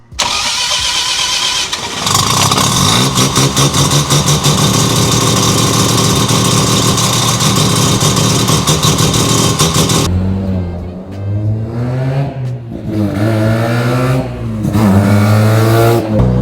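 A Mazda 2 fitted with a 13B peripheral-port rotary engine and an MR2 gearbox cranks and fires up loudly, settles into a steady, choppy idle, then revs up and down several times in close, punchy bursts.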